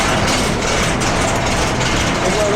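A diesel engine on a concrete pump rated at 15 cubic metres per hour runs steadily and loud, a continuous low idling rumble with broadband noise throughout and no talk over it.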